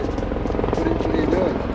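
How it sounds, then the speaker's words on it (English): A helicopter flying overhead gives a loud, continuous rotor drone with a low, rapid beating, while a person talks over it close by. "I've got to wait for the helicopter now."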